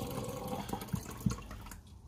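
Water poured from a jar into bread dough for Rewana bread, a soft splashy trickle with a couple of small plops, close by and fairly quiet.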